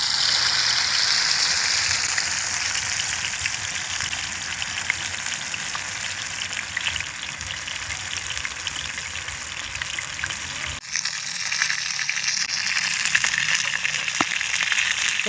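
Murrel fish frying in hot cooking oil, a loud, continuous crackling sizzle close by that stays steady throughout, with a brief dip and a fresh burst of spitting partway through.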